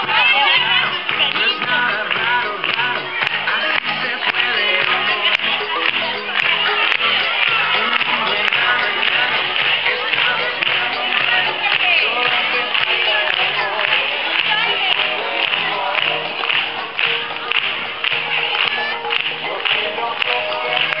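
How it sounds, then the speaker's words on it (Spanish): An audience at a primary school Peace Day event applauds and cheers for a second-grade class, a dense, loud, continuous clapping crowd with scattered shouts throughout. "Un fuerte aplauso para la clase de segundo C."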